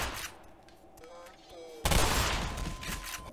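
Gunfire in the video game Black Mesa bursts out as a loud, dense volley of shots after a quieter stretch with a short electronic tone, then keeps rattling on.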